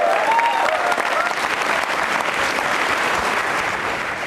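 A studio audience on a televised quiz show bursts into loud, dense applause for a contestant, a continuous roar of clapping sustained evenly throughout.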